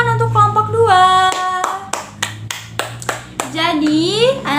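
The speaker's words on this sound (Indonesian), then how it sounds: "Tepuk tangan untuk kelompok 2" Schoolchildren in a classroom clapping for group 2 in a steady, rhythmic beat of sharp hand claps, mixed with the children's chanting voices rising and falling between the claps.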